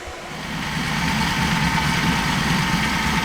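A supercharged General Motors V8 engine in a Tesla Model S rumbling up and settling into a steady, loud idle, a low continuous drone close by.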